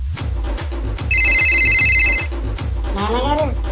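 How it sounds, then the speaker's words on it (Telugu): A telephone rings with a bright electronic ringtone in a domestic scene from a Telugu TV drama, sounding in one sustained burst over a thumping music bed, with a voice heard near the end. "మీకు ఫోన్ వచ్చిందండి"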